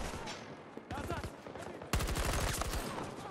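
Automatic gunfire in the shooter video game Battlefield 2042 rattles out in rapid bursts, with two distinct volleys, the second louder and denser, with speech mixed in.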